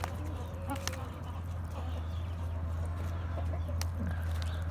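Scattered clucks from Indian game chickens, two roosters and three pullets, pop up over a steady low hum inside their coop, nearby and moderately loud.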